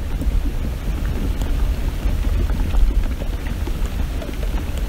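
A thunderstorm with rain sweeps over Lake Orion, Michigan. Dense, even rain hiss mixes with a deep rumbling undertone that swells slightly midway, continuous and without voices.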